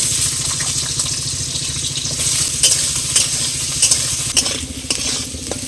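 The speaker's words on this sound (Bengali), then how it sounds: "কড়া বসিয়ে উনুন ধরিয়ে দিয়ে আলু ফুলকপিটা ভেজে নেবো" Potato pieces fry in white oil in a wok on a stove, a steady dense sizzle with frequent stirring scrapes and clinks running throughout, close and fairly loud.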